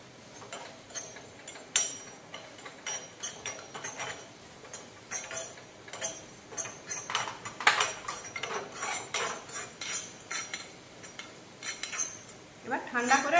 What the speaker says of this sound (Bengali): এই রাঁধুনিটা আমি শুকনো খোলায় হালকা রোস্ট করে নেব